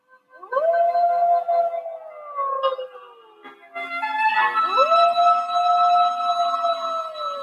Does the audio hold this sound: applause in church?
no